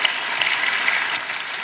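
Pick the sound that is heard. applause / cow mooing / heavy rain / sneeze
applause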